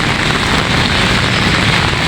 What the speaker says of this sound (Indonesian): Terjebak hujan di Malioboro,